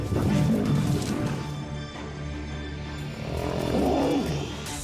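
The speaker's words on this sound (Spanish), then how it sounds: "a pesar del rugido del león macho que se podía escuchar hasta 5 millas de distancia" Male lion roaring and snarling in a fight with other lions, loud and close, with heavy growls and crashing scuffles rising and falling in two bursts.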